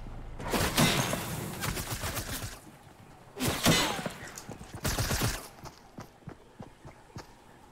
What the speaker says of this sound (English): I hear firing going on over this way.